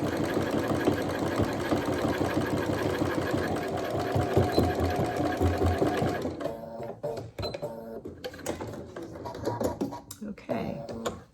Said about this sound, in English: I'm going to stitch this down like the other side.